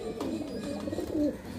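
Pigeons coo softly at a pigeon sale, a few low rolling calls close by over a faint background murmur.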